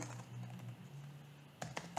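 Quick keystrokes on a computer keyboard while writing Portugol code, a faint low hum followed by a short burst of three or four sharp, close taps, heard alone.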